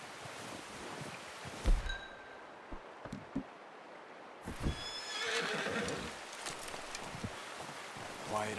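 Horse whinny and clip-clop hooves in the Red Dead Redemption 2 video game, a whinny near the start, then footfalls and rustling over a quiet outdoor ambience with faint game sounds.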